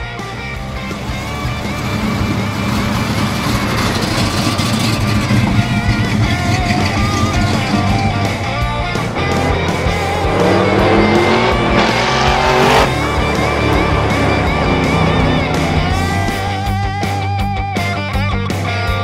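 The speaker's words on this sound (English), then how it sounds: "So you want to drive the Buick in the back?" A car engine runs loud and close, revving and shifting pitch as it drives, with a brief tire squeal midway.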